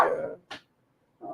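A small dog wearing a cone gives a short whimpering whine, then a brief yip, and after a quiet gap another soft whine, all close and fairly loud.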